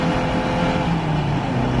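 Caterham Supersport race cars at Spa Francorchamps run at reduced pace under yellow flags, producing a steady engine drone with tonal hum, continuous and moderately loud, without voices.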